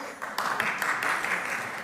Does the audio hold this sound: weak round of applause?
yes